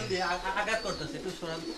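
Soft, throaty pigeon coos repeat in a rolling rhythm close by at a pigeon farm, with a voice speaking at the same time.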